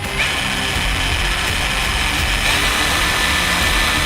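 Prohummer PH245 cordless grinder and polisher running steadily, a high whining motor with a constant airy hiss, close and loud with no pauses.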